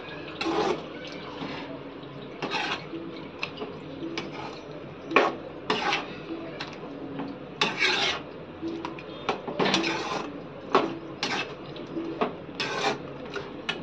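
Chicken curry is stirred in a pot after paste is added, a spoon scraping and rubbing against the metal in repeated rasping strokes, close and moderately loud, with brief pauses between passes.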